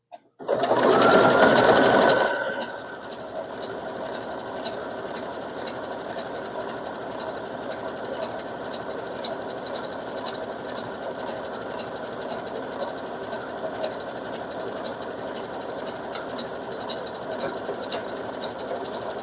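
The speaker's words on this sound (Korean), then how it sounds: "오버록으로 올을 안 풀리게 보겠습니다" An overlock sewing machine on a 14 stitch setting runs at top speed, finishing a fabric edge for a bag: a loud opening burst, then a continuous close, steady mechanical whir and rattle with no speech.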